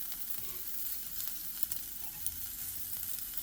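Beef sears in a pan in a cooking video game, a faint steady sizzle with soft crackles and a few small pops, quiet and without voices.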